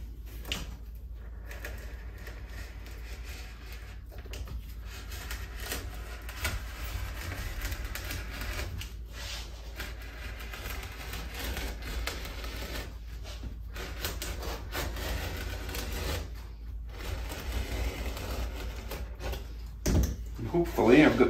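A blade drawn freehand along a marked line through HO scale cork track bed makes a steady, close scraping rub that runs almost unbroken for about twenty seconds and gets a little louder near the end.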